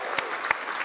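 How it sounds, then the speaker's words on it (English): Applause from a conference audience for a speaker, a short burst of clapping with a few sharper individual claps standing out, fairly close and without talk. "Give Abby a big round of applause"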